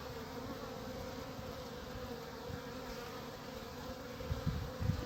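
A dense swarm of honeybees from a queenless colony buzzing continuously around a hive, a steady droning hum with a few louder passes near the end.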